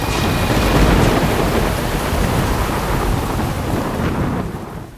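A Washington DC thunderstorm brings heavy rain and deep, rolling thunder, loud and continuous before easing off at the very end.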